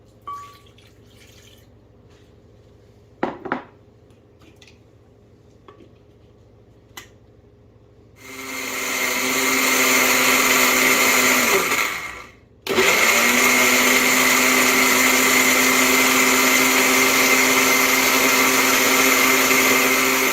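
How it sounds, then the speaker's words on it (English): A blender runs loud and steady, whirring vegan butter and almond milk together, briefly cutting out and restarting after a few quiet seconds with a few small knocks and drips beforehand. "I'm going to add my milk, my almond milk, and then I'm going to blend it up"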